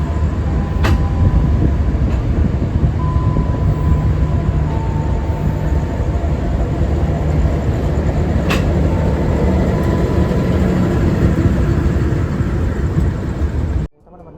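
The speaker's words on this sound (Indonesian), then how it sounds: "Kereta api Belambangan Express berangkat dari stasiun Surabaya Pasar Turi 2141 terlambat 4 menit" Blambangan Express train departing Surabaya Pasar Turi station at night, a constant loud interior rumble of wheels on rail with faint tonal hums and a couple of sharp clicks, cutting off abruptly at the end.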